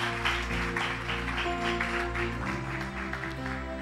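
A church congregation clapping and acclaiming during worship, dense rhythmic hand claps over sustained music and voices, steady throughout.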